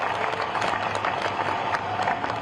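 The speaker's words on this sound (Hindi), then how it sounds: "एक बार जोरदार ताली आपकी बजनी" A crowd at a political rally gives a dense, continuous round of applause, steady and fairly loud throughout with no clear talk over it.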